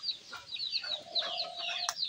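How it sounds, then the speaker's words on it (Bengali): Chickens clucking and calling in a shed on a family farm, several birds close by with busy overlapping clucks and one long drawn-out call in the middle. "এই যে মুরগি চলে আসছে এখানে, দেখছেন মুরগি চলে আসছে।"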